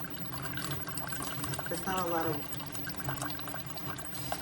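A SIFENE 3-in-1 single-serve pod coffee machine dispensing medium-size hot chocolate, a steady liquid stream pouring into a cup with a brief gurgle, while a person speaks briefly nearby.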